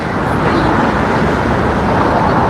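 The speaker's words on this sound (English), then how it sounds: "I am in the street, so you will hear noise" Loud, steady street traffic roar with cars passing close by, a dense continuous rumble and hiss with no talk over it.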